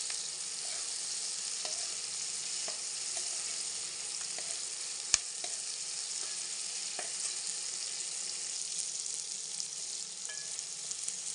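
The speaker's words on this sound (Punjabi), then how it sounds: "ਆਪਣੇ ਮਸਾਹ ਪਿਆਜ਼ ਟਮਾਟਰ ਲਸਣ ਪੱਕਣਗੇ ਉਨੀ ਉਹ ਸਬਜ਼ੀ ਟੈਸਟ ਬਣੂਗੀ" Onion, tomato and garlic masala cooking in a pan, a constant close sizzle with occasional soft stirring taps and one sharp clink partway through, no voices.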